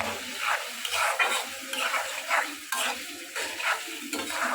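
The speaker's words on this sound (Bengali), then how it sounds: "ভুনা করার জন্য এইখানে মশলা মশানো হচ্ছে পেঁয়াজ টমেটো দিয়েছি" Spices with onion and tomato fry in a pan as the base for a fish bhuna, heard as a close sizzle broken by a steady rhythm of stirring and scraping strokes, with no talking.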